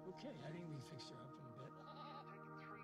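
A young goat bleats repeatedly in wavering, quavering cries, fairly close, mixed with speech and background voices.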